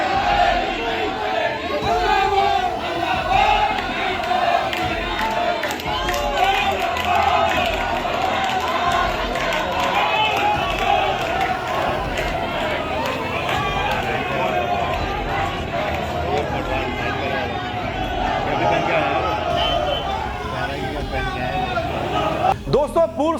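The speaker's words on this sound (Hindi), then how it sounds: "ये अनगिनत भीड़" A large protest march crowd of former soldiers and families in Uttarakhand fills the air with a continuous dense roar of shouting and chanting voices, loud and steady throughout with no pauses.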